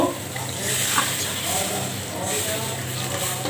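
Water is poured into a cooking pot of fried coconut paste and spices for a shrimp curry, making a close, continuous rushing hiss alongside a faint voice.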